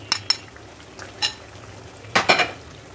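A spoon stirring nutmeg, mace and pepper into chicken roast in a pan, a few sharp scraping clinks spread irregularly over a faint background hiss, close by, no speech.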